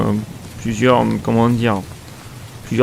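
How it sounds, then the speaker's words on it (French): Water sprayed as artificial rain into an enclosure of Australian Myrmecia bull ants, a soft hiss running beneath someone talking in French throughout. "alors là je suis en train d'envoyer un peu de pluie"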